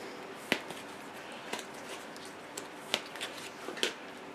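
Tarot cards are shuffled by hand, giving a few soft, separate riffling slaps spaced about a second apart against a quiet room background.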